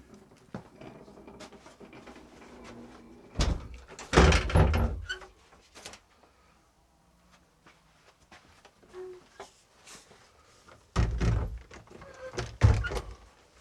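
The old west door of St Margaret's Church in Stanford Rivers, Essex, opens with a heavy wooden thunk and rattle, then after a quiet pause closes with another close, solid thud.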